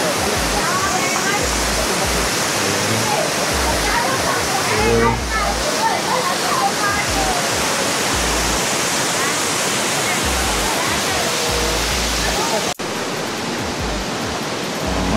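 Piduan Falls, a curtain waterfall, roars in a dense, steady rush of falling water for the full stretch, loud and close, with faint voices beneath it.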